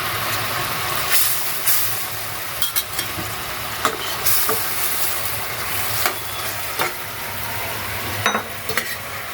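Pabda fish added to spiced oil in a pan and frying, a steady loud sizzle with occasional stirring clinks and scrapes, close up with no voices.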